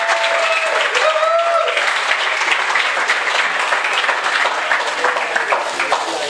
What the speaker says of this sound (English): Another round of applause for our guest speaker,